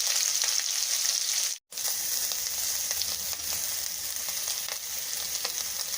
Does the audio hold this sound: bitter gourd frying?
yes